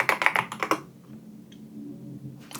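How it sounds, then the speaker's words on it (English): A short, close run of crisp keystrokes on a computer keyboard, quick and even, as a password goes in. A brief quiet follows, then one more tap. "Then type in the password."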